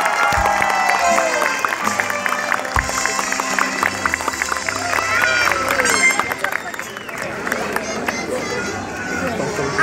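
An audience applauds a singer at a public event, with sustained clapping mixed into crowd hubbub and cheering and voices talking over it.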